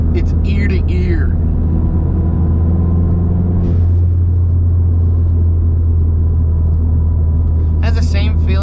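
Ford Fiesta ST turbo blow-off valve gives one short, breathy whoosh midway through a steady engine drone while driving, with a person talking at the start and end.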